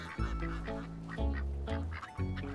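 Cartoon ducks quack in a children's Teletubbies episode, several loud, nasal honks in quick succession close up over light background music, with no talking.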